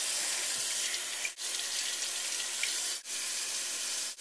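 Water runs steadily from a tap into a sink during a rinse after brushing teeth, a continuous close hiss broken twice by brief dips as the flow is interrupted.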